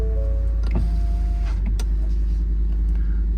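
A 2021 Ford F600 service truck with a 7.3 gas engine and aluminum mechanic body, its deep steady engine rumble heard from inside the cab, with brief whirring and clicking sounds over it.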